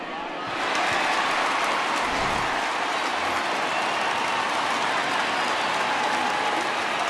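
A big stadium crowd in MLB The Show 20 roars and cheers at an Indians vs. Yankees game, a dense, sustained wash of applause and cheering that swells in within the first second and holds loud and steady to the end.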